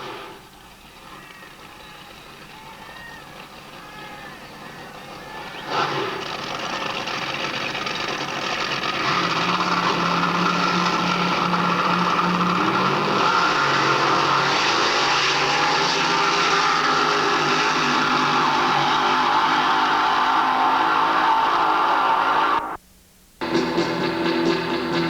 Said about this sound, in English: Cuff was running in the over 3000cc racing car class with his Cooper Daimler, complete with zoomy headers